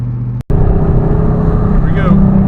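A car, apparently a Ford, accelerates hard during a pull: a loud, steady engine roar that rises in pitch toward the end, heard close up with little else over it.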